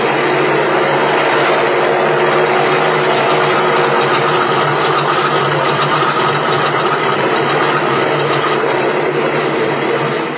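A steady droning engine runs loud and unbroken, with a rough, slightly knocking texture, as an airplane engine starts up for take-off in a 1940s radio drama sound effect.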